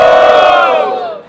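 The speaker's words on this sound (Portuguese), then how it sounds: "Barulho, quem preferiu a rima do freestyle é meu mano Choice" A crowd at a freestyle rap battle in São Gonçalo erupts in a loud burst of shouting and cheering, a dense roar of many voices that swells and then trails off within a second.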